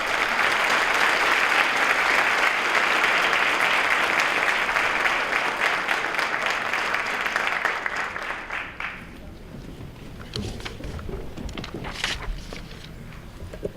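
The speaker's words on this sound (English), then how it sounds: "let's give her a round of applause" An audience at a middle school National Junior Honor Society induction ceremony gives a sustained, dense round of applause that fades after about eight seconds into scattered claps, shuffling and light room noise.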